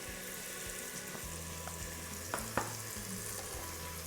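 Drumstick pods frying in a pan of oil for sambar give off a steady, moderate sizzle, with a few sharper crackles near the middle and soft background music underneath.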